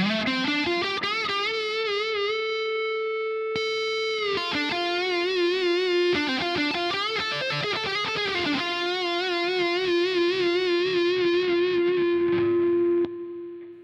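An electric guitar run through a guitar-modeling plugin with boosted pickup output, heard alone as distorted sustained notes and bends with a chorus-like shimmer, loud and close, ending in a ringing tail.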